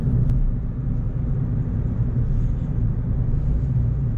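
Steady low rumble of road noise inside a 2018 Kia Rio, a constant muffled drone with no talking, moderately loud and even throughout.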